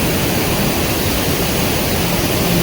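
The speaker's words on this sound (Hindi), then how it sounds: "कितना पानी आ रहा है यहाँ पे, वहाँ से सामने से आ रहा है और एक यहाँ से आ रहा है।" A waterfall and streams in Jim Corbett National Park, with water from two directions meeting in a river, make a loud, steady, close rushing roar throughout.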